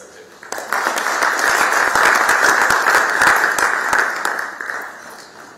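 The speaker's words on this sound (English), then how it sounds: "let's give them another round of applause." Applause from the audience at a development roundtable event, sharp individual claps building into a steady clatter that swells and then thins out toward the end, with some voices faintly mixed in.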